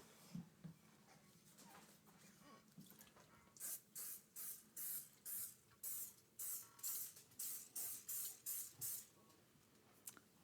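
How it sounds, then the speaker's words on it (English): Cooking spray hisses onto an 8x8 baking pan in a string of about a dozen short, close bursts, each roughly half a second long, after a few seconds of quiet kitchen handling. "prepare my pan with some cooking spray."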